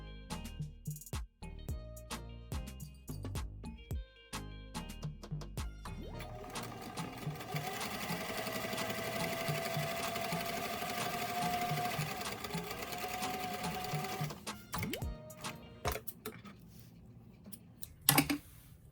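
A sewing machine stitches around the rounded bill of a small doll cap, starting with short stop-start bursts, then running steadily for several seconds before slowing and stopping with a few clicks, fairly quiet and close.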